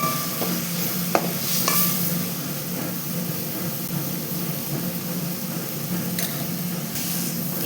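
Onions and tomatoes sautéing in a pan for chicken gravy, heard as a continuous close sizzle with a few brief utensil clinks near the start, steady and moderately loud throughout.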